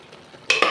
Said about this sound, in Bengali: একটু এখন কিন্তু নিচ থেকে ওপরে একটু নাড়িয়ে দিতে হবে হাতার সাহায্যে